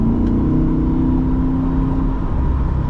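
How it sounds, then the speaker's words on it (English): A new Chevrolet Corvette engine in sport mode drones loudly and up close with a steady, tonal hum. The pitch shifts only slightly near the end, and nobody speaks. "The engine claps for you every time you shift a gear."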